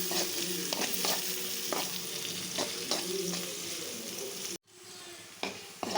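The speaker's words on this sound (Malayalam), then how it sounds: "ഇത് നന്നായിട്ടൊന്ന് വഴറ്റും" Onion, tomato, green chilli and garlic frying in a pan: a steady close sizzle with repeated rhythmic stirring scrapes, a sudden brief silence near the end, then quieter frying with a couple more stirs.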